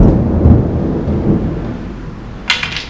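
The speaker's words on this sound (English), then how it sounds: "Sounds like we got a storm coming through." A thunderstorm rolls in, heard from inside a garage during a bike ramp build: long, loud low rumbling thunder that slowly fades, then a sharp crack near the end, with no talking.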